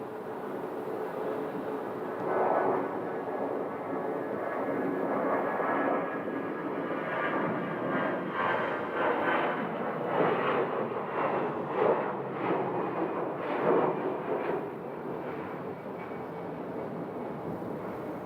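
An American Airlines jet departs Sky Harbor bound for San Diego, its broad engine roar rumbling at a steady distance for a long stretch, swelling and pulsing a little in the middle before settling.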